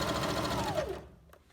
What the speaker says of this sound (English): I'm gonna lower my presser foot and finish my seam.